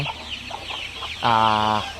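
Hens on a farm clucking in short, close bursts, ending in a louder, drawn-out cackle, with no talk over them.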